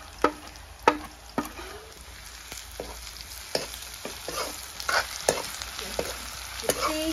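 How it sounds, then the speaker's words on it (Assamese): Cumin and chili powder fry in hot oil for a pork curry with mustard greens, giving a steady sizzle broken by sharp clacks of a spoon stirring the pan. No one speaks. "গোটেইখিনি ভালকৈ অকণমান টাইম ভাজি লৈছোঁ।"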